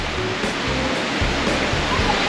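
Continuous rushing water from a small waterfall at a nature campsite, a broad steady roar of falling water close by, with faint low thumps and murmuring beneath.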